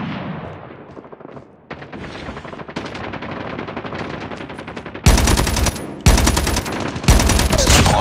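Rapid automatic gunfire rattles through a Call of Duty multiplayer match, starting as distant bursts and building to loud, close volleys of sharp shots near the end, with no talk over it.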